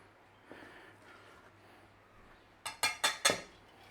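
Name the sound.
mixing ginger powder into self-raising flour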